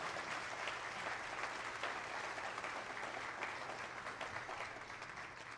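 An audience applauds at the 2023 South Carolina African American History Calendar unveiling ceremony, with dense, sustained clapping from a large crowd that tapers slightly toward the end.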